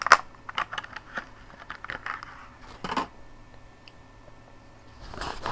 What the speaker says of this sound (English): This plastic doesn't want to rip.